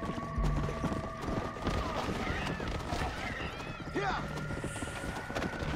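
Horse hooves clip-clop in the Red Dead Redemption Undead Nightmare video game, a steady beat of galloping running through the whole stretch, mixed with game ambience, a whinny and a brief burst of gunfire.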